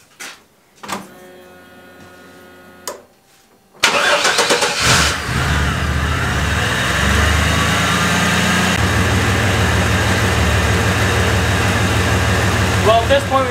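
A Chevy S10 pickup engine, freshly repaired, cranks over after a couple of short tries and catches, then runs steadily at a loud, close idle with a constant rumble that carries on to the end.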